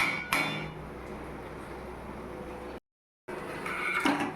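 A metal lid clanks once onto a cooking pot of mutton curry, a single sharp close hit followed by low kitchen noise, a brief dead silence, then more faint clatter.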